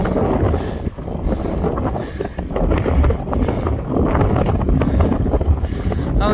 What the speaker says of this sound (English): it is a bit windy today, but I'm also going against the wind